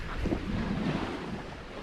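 A sailboat cruising under sail at sea off the Cornish coast between Falmouth and Fowey, heard as a continuous loud rush of wind buffeting the microphone over the wash of water, with no talking.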